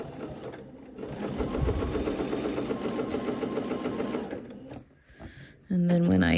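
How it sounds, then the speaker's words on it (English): A sewing machine stitches bodice seams at a 5/8 inch seam allowance in a slow, steady whirring run of needle strokes, close up, briefly stopping near the end; a person talks over it. "And I'm sewing these at 5/8 of an inch seam allowance."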